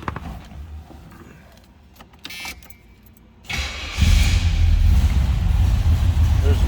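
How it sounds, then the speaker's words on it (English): A 1980 Pontiac Trans Am Indy Pace Car gets a cold start: quiet cabin clicks and key handling first, then a short crank, and the V8 fires into a loud, steady idle heard up close. "Start it up, hear what it sounds like."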